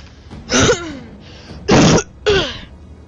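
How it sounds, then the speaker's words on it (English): Three harsh coughs, loud and close, each a short rough burst spaced about a second apart. "Sorry about that, I've got a really bad cough."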